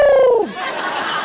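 A comedian's voice mimics a pigeon's coo on stage, one sustained, gliding hum that falls in pitch and fades into a murmuring audience.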